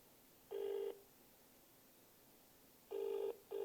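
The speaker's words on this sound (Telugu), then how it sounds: "ఫోన్ రింగ్ అవుతుంది" Outgoing telephone call ringing on the line: an electronic ring tone, one short burst, a pause, then a double burst, heard clearly but at low level through the handset with no talk.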